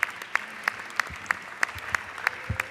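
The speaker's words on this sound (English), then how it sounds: "let's give them a round of applause." Slow, evenly spaced claps in a legislative chamber session, about one sharp clap every third of a second, fairly distinct and moderately loud over a quiet room, suggesting a few people or a single clapper.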